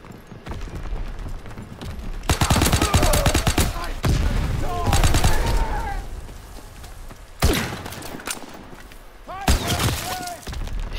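Rapid bursts of Type 100 submachine gun fire in a WW2 video game, several loud sustained volleys with gaps between, mixed with other battle noises.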